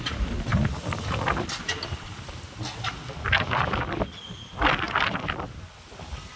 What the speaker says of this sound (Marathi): वादळी वारा सुटलाय.